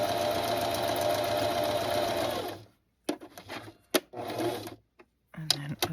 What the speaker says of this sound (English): now I'm going to sew this to this piece, and we'll do a straight stitch on that